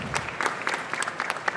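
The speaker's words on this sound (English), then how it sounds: "Can we give them a big round of applause?" Brief burst of audience applause at a health and biomedical startup competition finals event, scattered claps fairly close and moderately loud, with no voices over it.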